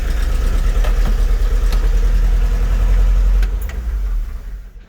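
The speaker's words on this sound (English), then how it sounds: "Uh-oh, running out of gas." A Chevy C50 wrecker truck engine, fitted with a Holmes 475 tow unit, runs steadily close by, then sputters and fades near the end as it runs out of gas.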